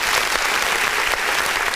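A crowd applauds in a dense, continuous burst of clapping, loud and close, with no gaps for the short duration.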